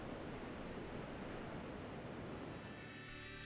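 Inshore sea waves wash continuously near the shore, a steady, even surf hiss with no distinct breaks and no voices.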